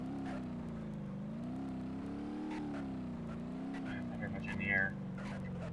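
Car engine in the BeamNG.Drive driving game droning steadily with a wavering pitch as it revs, continuous throughout under someone talking, with a brief louder burst near the end.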